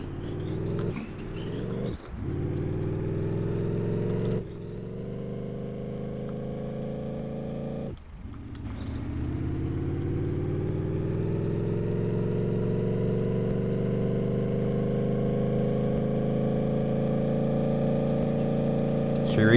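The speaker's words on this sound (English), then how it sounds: "I don't like this engine sound, I know that much." Wild Hog vehicle engine in Farming Simulator 19, a harmonic motor tone that dips and restarts several times in the first eight seconds, then climbs in a long steady rev and holds loud.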